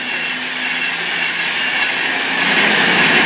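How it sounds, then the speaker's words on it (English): A Pendolino passenger train sweeps past Stafford station on the West Coast Main Line, a loud sustained rushing roar with a bright hiss that builds toward the end, with no voices. "that Pendolino came by surprise"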